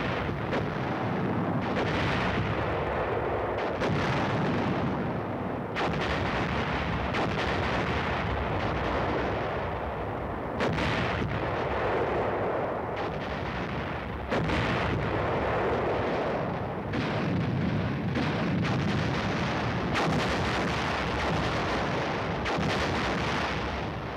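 Korean War artillery guns fire in a continuous barrage, heavy booming reports and rumbling blasts overlapping one after another without pause, loud and dense throughout.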